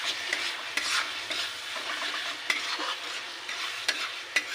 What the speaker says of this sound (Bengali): বারবার কিন্তু মশলাটাকে কষতে দিতে হবে